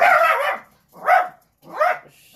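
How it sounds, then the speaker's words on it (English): Dogs bark three times indoors, a longer bark followed by two shorter, evenly spaced ones, loud and close. "Sorry for dogs."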